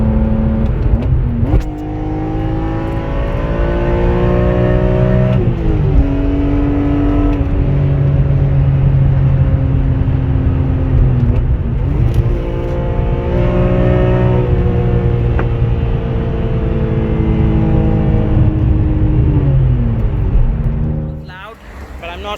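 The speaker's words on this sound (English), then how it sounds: "It has a agency power exhaust." A BMW E46 M3 with an Agency Power aftermarket exhaust revs hard several times, its loud, close engine note climbing and falling in repeated sweeps before cutting off near the end.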